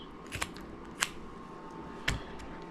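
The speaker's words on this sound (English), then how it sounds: "I'm going to use the scissors and just cut right across." Scissors snip across a fluke fish being filleted, three quiet, crisp cuts spaced apart against a soft background hiss.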